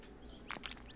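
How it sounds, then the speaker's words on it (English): A bird chirps a few short, quick notes in the background, faint behind low steady room noise. "sorry if you can hear that bird in the background"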